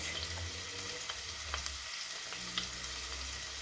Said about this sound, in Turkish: Soğanımızı kavuracağız.